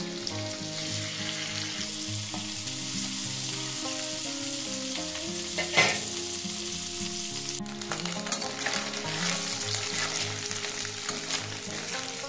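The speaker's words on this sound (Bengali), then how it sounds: "এগুলো একটু ভেজে নেব হালকা।" Paneer cubes fry lightly in oil and butter in a pan, giving a continuous close sizzle with occasional stirring knocks over soft background music throughout.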